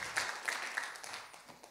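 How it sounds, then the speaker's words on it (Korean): Audience applause at a New Year revival meeting in a church, a quiet, steady wash of clapping that lasts under two seconds. "우리 박수 한번 쳐주시죠."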